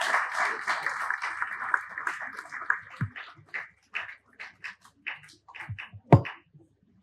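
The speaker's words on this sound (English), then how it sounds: "So an applause for Tattoo." An audience at an appreciation award ceremony breaks into applause, starting as a dense wash and thinning into separate, sharper claps that trail off, with voices heard over the start.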